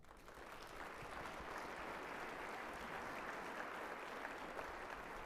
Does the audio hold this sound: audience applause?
yes